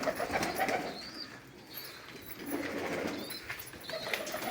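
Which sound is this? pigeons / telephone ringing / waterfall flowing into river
pigeons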